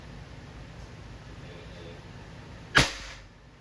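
A Crosman 2240 bolt-action airgun fires a single .22 pellet through a chronograph, giving one sharp, close crack partway through against a quiet background.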